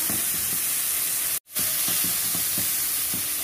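Whole shrimp frying in a pan as garnish for a salt cod salad, a steady close sizzle and hiss with light stirring scrapes, broken by one brief dropout, no talk.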